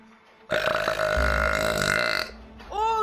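A girl lets out one long, loud, croaking burp lasting over a second, followed by a brief rising vocal sound right after.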